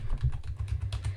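Fingers typing an order number on a computer keyboard, a quick, close run of soft key taps in an uneven rhythm, with no voices.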